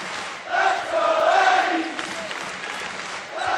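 Big arena crowd at a Utah State Aggies college basketball game against a ranked opponent, a loud swelling roar of cheering and yelling that rises, holds, then eases back to a steady din before surging again.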